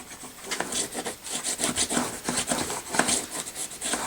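A bone folder presses and rubs down glued paper flaps on a decorative box made from one 12 x 12 sheet, giving close, repeated scraping strokes in a quick, steady rhythm.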